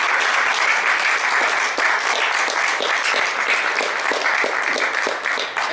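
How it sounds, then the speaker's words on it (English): A crowd at a teen idol talent show in East Hartford gives a loud, sustained round of applause, many hands clapping continuously and close, with brief dips in intensity. "So let's give them a round of applause"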